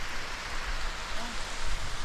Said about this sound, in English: Yep, here comes heavy rain again.